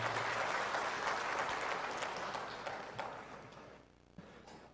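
Audience applause filling a large hall at a national ministry working meeting, dense and loud at first, then thinning and fading toward the end with a few last scattered claps.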